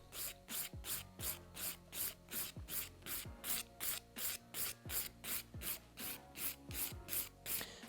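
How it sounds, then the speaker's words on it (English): A 100-grit nail file rasps hard gel colour and top coat off a fingernail in a steady run of about eighteen short, close, scratchy back-and-forth strokes with a low hum beneath. "So with your 100 grit file, we're going to remove the colour"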